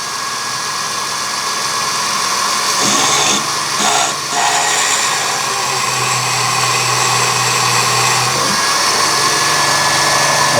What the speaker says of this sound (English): And you just need to drill in a little ways, perhaps 1/8 of an inch or 1/16 of an inch.